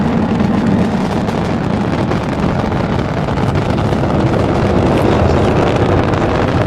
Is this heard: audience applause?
no